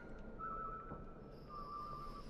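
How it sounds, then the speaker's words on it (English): A faint, soft whistled tune drifts in the Dishonored 2 game world, two short wavering phrases separated by a pause, heard at a distance under quiet ambient background. "The whistling."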